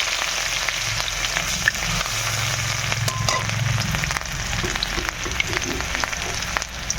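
Chopped garlic frying in hot oil in a home kitchen; a continuous crackling sizzle with scattered pops and a few utensil taps, close and fairly loud, no voices.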